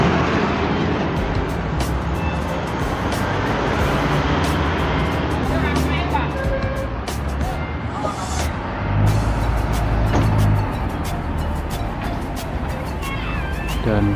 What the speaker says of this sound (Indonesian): Dan bus Harapan Jaya pun berangkat menuju arah Surabaya.